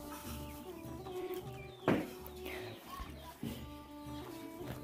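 Chickens cluck and call in a village coop, several birds close by with overlapping repeated clucks and a louder squawk partway through; pigeons are also kept there.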